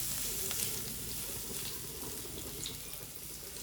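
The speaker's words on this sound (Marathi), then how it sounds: "सगळ्यान पयलीं कांदो ऍड करता आमी भाजये खातीर आणि हो बरो गोल्डन ब्रावन जायसर भाजून घेवपाचो." Onion frying in a pan over a non-electric fire in a Goan kitchen, a faint continuous sizzle with soft watery crackle, no talking.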